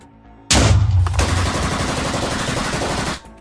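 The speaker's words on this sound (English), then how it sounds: "because you started shooting at them" Rapid automatic gunfire from the Roblox Brookhaven roleplay game bursts in loudly after a short quiet start, then rattles on as a dense, sustained stream before cutting off near the end, with no talking.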